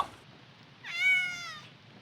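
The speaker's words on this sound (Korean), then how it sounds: "어, 고양이 있겠구만." A single clear, drawn-out meow from a cat in the Ao Oni Remastered horror video game, rising and fading over about a second against a quiet background.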